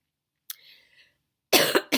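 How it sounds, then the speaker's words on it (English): A short coughing fit in a quiet room: a single sharp cough, a pause, then a loud burst of several harsh coughs close to the mic, with no talk. "I had a coughing fit"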